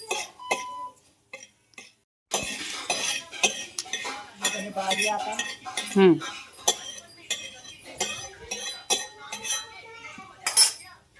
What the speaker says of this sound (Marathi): धने छान भाजून घ्यायचे आपल्याला तेल टाकून भाजून घ्यायचे